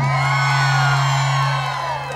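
A crowd on the right side of a Día de la Mujer 2022 celebration in Villanueva cheers and whoops loudly. The sustained wall of voices is close and steady, with a constant hum beneath it.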